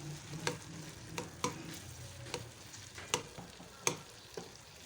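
Masala for a black chickpea curry frying in oil, with a quiet, steady sizzle and a rhythmic series of spatula scrapes and taps against the pan, fairly faint and with no talking.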